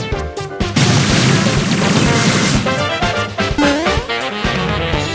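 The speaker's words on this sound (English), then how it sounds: "Explosion!" Explosion attack in the Nintendo game Miitopia during a battle with jellies: a loud, sustained booming blast with crashing impacts, layered over bright game music and effects.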